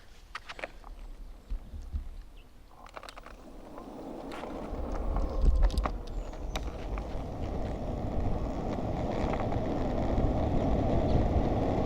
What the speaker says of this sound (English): let's go and test this sucker